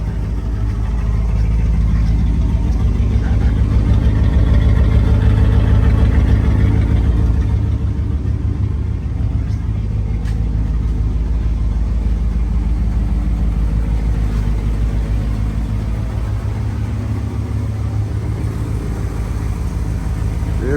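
Old first-generation Dodge engine idling inside a shop building after a cold start, a steady low rumble with an even, throbbing tone, close and loud throughout.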